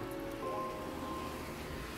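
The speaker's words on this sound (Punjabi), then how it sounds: "ਸਾਹਮਣੇ ਮੀਂਹ ਪੈ ਰਿਹਾ ਹੁਣ ਇੱਧਰ ਤੱਕ ਪਹੁੰਚ ਗਿਆ" Rain falls steadily as a soft, even hiss at moderate distance, with no voices.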